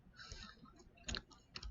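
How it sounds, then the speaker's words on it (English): A password being typed on a computer keyboard, a short, quiet run of light key clicks with a couple of firmer taps. "type in my password, sign in"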